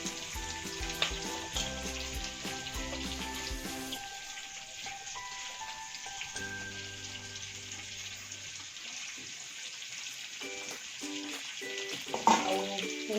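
Spices sizzling in hot oil in a pan while a simple chicken curry is prepared, a steady frying hiss running throughout with occasional stirring and clinks, no talking.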